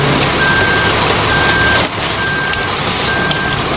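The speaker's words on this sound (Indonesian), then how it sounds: "Wow, di sini juga ada truk molen." A concrete mixer truck used for mixing sand and cement sits close by with its engine running steadily, while a reversing beeper sounds in regular repeating pulses over the broad motor rumble.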